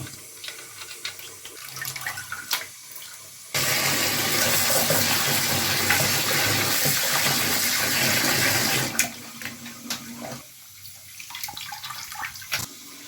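Chopped liver pieces washed under running water in a kitchen: a loud steady gush of water from a tap for about five seconds in the middle, framed by quieter splashing, sloshing and clinking of the pieces in a vessel.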